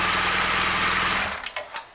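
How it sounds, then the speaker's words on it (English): Motorcycle engine idling in first gear with a rapid, steady mechanical chatter, then cutting out when the side stand drops, sputtering through a few fading coughs into quiet. "if we put the side stand down, the engine should cut out"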